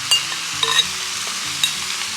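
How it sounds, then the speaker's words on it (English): Pre-seasoned vegetables frying for Nigerian fried rice, a steady close hiss of oil with a few light stirring clinks and scrapes in the pan. "So we'll fry this for about 5 to 7 minutes"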